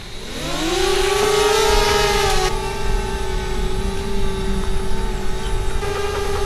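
A DJI Spark drone spins up and lifts off, its propellers rising into a steady, loud buzzing whine with a sustained tonal hum that holds as it hovers and flies nearby, with no talking.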